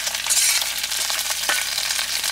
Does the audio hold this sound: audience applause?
no